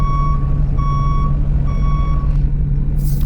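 Bus reversing beeps in the video game Sunshine Bus Simulator, three steady electronic tones repeating over a constant low engine hum, then cutting off as a brief hiss of air sounds at the end.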